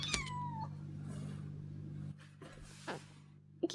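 A pet cat lets out a short, close meow, followed by quieter shuffling and a few faint vocal chirps against a low steady hum indoors.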